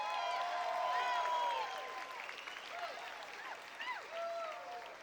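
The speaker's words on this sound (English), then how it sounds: "So let's give Senator Cruz a round of applause." Audience applause at a political endorsement event for Senator Ted Cruz, a steady wash of clapping mixed with crowd voices and cheers, fairly distant and moderate in level across the clip.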